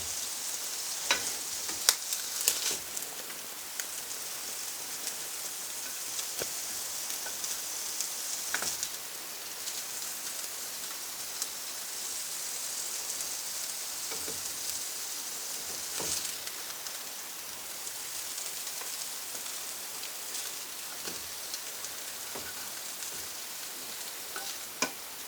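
Chicken livers fry in a pan with a steady, close sizzle, with occasional louder pops and crackles breaking through the constant hiss.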